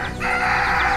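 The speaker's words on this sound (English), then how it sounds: "Here's another bunch of chickens." Chickens at a small-animal sanctuary, a hen with six very small chicks, give a short, loud, close crowing call, a sustained strained cry lasting about a second.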